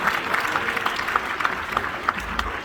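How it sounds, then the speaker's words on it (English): Audience applause for Isabella after her turn at a magic and music stage show, a steady crowd of clapping hands with a few sharper individual claps standing out, moderately loud and continuous. "How about a round of applause for Isabella?"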